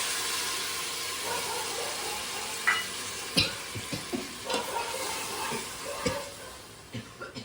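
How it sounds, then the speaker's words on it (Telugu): Tamarind extract poured into a hot tempering pan of fried curry leaves while making sambar rice gives a steady close sizzle, broken by scattered clinks and scrapes of stirring. No one speaks. "ఇప్పుడు మనం గుజ్జు తీసి పెట్టుకున్న ఈ చింతపండు పులుసుని ఇందులో వేస్తాం"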